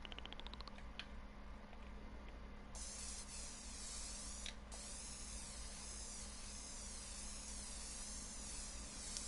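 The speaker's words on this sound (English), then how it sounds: "Spray paint this whole guy gray." A spray paint tool in the PS4 video game Dreams hisses continuously at low level, a steady airy spray with faint wavering tones and a couple of clicks.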